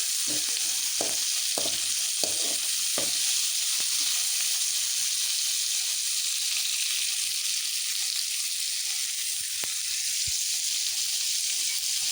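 Ridge gourd palya hisses steadily in a pan, a close, even sizzle carrying the whole time, with a few soft stirring knocks near the start and a couple of faint clicks later; no voices.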